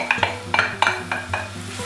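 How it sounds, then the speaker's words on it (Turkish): Thinly sliced mushrooms for cream of mushroom soup sizzle in a hot pan while a spatula scrapes and taps against it in quick, irregular strokes, close by. "Şimdi ince ince doğradığım mantarlarımı içine atıyorum."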